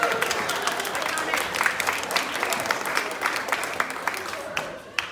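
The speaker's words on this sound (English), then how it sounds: "So, round of applause." Guests applaud after a wedding toast, a dense burst of clapping that holds steady and fairly loud before tapering off at the end, with a few voices mixed in.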